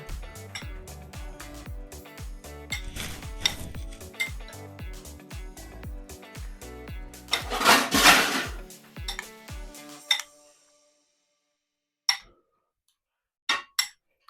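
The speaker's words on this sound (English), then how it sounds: "we're just gonna stir the sauce together, work everything in" A spoon stirs fish sauce in a bowl, giving rapid clinking and scraping against the dish, then a louder clattering burst before it stops, leaving a few isolated taps.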